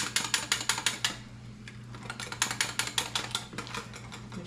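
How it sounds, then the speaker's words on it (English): A whisk beating chicken pot pie mixture in a bowl until smooth, making quick rhythmic clacking strokes in steady bursts with a brief pause in the middle, close and fairly loud over a low hum. "you're just gonna mix it, kind of whisk it together till it has no lumps"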